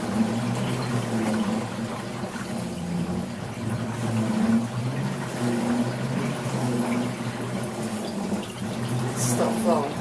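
Water flows out of a Laundry Pod manual washer, a steady rushing, gurgling drain with a low mechanical hum underneath, continuous and fairly close.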